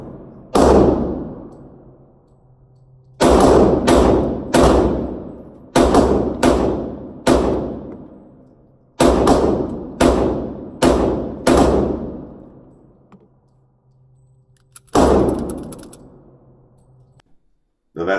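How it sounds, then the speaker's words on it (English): A Sig Sauer P365 pistol fires about ten rapid rounds at a shooting range, each shot a loud, sharp crack with a decaying tail, spaced in quick bursts and irregular pairs with brief quiet gaps between. "10 quick rounds, show you how the gun functions."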